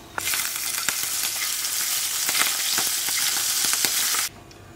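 Prawns fry in hot oil in a pan for Goan prawn pickle, a loud, close, continuous sizzle with occasional sharp pops and crackles that cuts off abruptly at the end.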